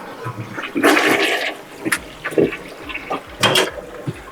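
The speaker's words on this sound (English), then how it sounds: "flush your toilet once and fill it up with the water" A blocked toilet flushes with a loud rushing gurgle, then water trickles and hisses as the tank refills, close by and with no one speaking.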